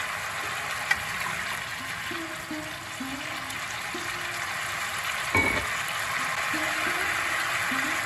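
Spice paste for masala chicken frying in oil in a pan, a steady soft sizzle running throughout with a few brief stirring scrapes and a clink partway through.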